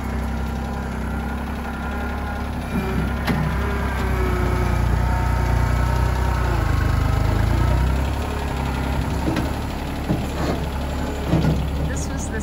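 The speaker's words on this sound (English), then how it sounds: "If you're wondering what all the noise has been outside, it's Bob working with this tractor" A tractor digging out tree stumps in a yard: a continuous low engine rumble that swells louder through the middle and then eases back, with occasional knocks and clanks over the drone.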